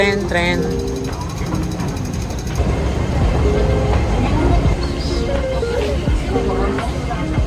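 Rumbling train noise with rhythmic clattering fills the clip, loud and continuous, while people talk over it.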